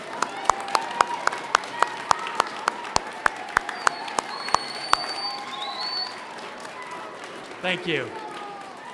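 At an awards ceremony, children clap in rhythm for their parents and grandparents. The claps are loud, evenly spaced and in unison for about five seconds, then fade into crowd murmur, and a voice speaks briefly near the end.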